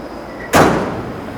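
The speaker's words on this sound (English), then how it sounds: "And the tailgate shuts." A pickup truck tailgate swings shut with a single loud slam close by, its bang tailing off into a short resonant decay, with no voices.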